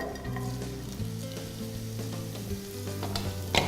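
Onion hitting olive oil already heated in a pan: a dense, steady sizzle close by, running under a low sustained hum, with a sharper burst of crackle near the end.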